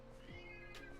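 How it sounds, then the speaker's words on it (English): A single short meow from a pet cat, a rising then falling wavering call that lasts under a second, heard at moderate volume over a quiet indoor background. "I'm so sorry about if you hear my cat."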